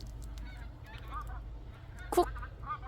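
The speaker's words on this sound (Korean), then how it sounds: "하늘에서 막 철새들이 날아다니네" Geese honking overhead at a rural property, several faint distant calls scattered through the clip over low background rumble, one louder honk near the end.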